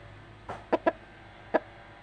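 Four short, close clucks from a fighting rooster, three in quick succession then one after a pause, fairly clear against a quiet background.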